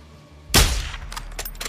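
Gunfire in the video game Call of Duty Modern Warfare 2: one sharp loud shot with a booming tail, then a few quicker, lighter cracks close behind it.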